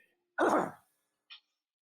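A single short cough, quiet and close, followed by a faint click, then silence.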